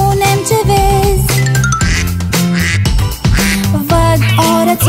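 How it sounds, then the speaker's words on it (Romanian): Duck quacks ring out over a bright, steady children's song melody, loud and close, repeating in short bursts alongside the music. "Văd o rățușcă. Mac, mac, mac."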